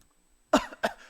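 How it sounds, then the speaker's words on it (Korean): Two short, harsh throat-clearing bursts close by, the second a bit softer, after a moment of quiet. "헛기침을 하는 거죠"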